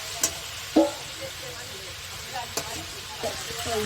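Two bay leaves torn into pieces, with cardamom, cinnamon and cloves, drop into hot oil left from frying chicken for a chicken curry, producing a close, steady sizzle broken by a few sharp crackles and utensil clicks.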